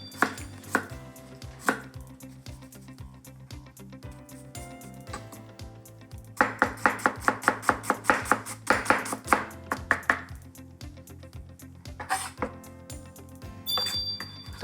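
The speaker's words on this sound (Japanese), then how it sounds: "ニンニクのみじん切りと玉ねぎのみじん切り入れていきますね" A knife mincing garlic and onion on a cutting board for cabbage rolls, a rapid run of sharp, evenly spaced chops, close and clear, with slower taps before and after.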